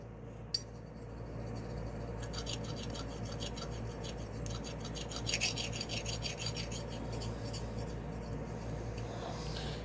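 Synthetic Naniwa nagura stone rubbed back and forth across a wet whetstone, a steady close gritty rasping scrape that runs continuously without pause, with a few faint higher scratchy accents.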